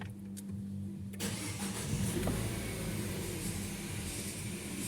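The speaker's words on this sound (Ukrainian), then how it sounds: "Двигун працює стабільно." A Peugeot 3008 with the 1.6 EP6 petrol engine and running faults cranks briefly and catches about a second in, then settles into a steady, close idle.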